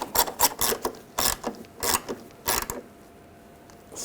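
A ratchet tightens the bolt on an ABS speed sensor bracket of a 2003-2008 Subaru Forester, with about eight sharp, close clicking bursts in an uneven rhythm, then the sound stops.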